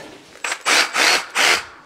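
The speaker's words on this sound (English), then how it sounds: "we jigsaw it." A jigsaw cuts through roofing tin for chimney flashing, with three loud, close rasping bursts of the blade after a brief starting rattle.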